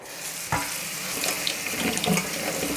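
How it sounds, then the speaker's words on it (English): A tap runs water over leafy vegetables in a sink, a steady hissing splash with small clatters and rustles from the greens being handled, heard alone at close range. "wash your leafy veg"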